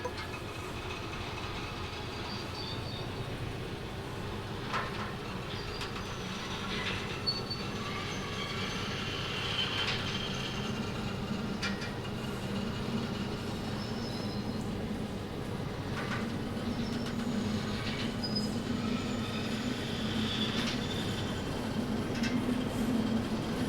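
A locomotive hauls a long heavy string of freight cars in the Derail Valley train simulator, a steady rolling rumble with wheel squeal and faint clacking that carries on alone and slowly builds as the train gathers speed.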